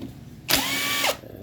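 A power tool removing bolts from a Kawasaki Rouser 135 motorcycle engine during disassembly: one loud, close burst of whirring and ratcheting lasting about half a second, with quiet before and after.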